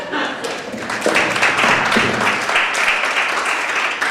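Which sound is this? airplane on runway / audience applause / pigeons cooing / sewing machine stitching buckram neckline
audience applause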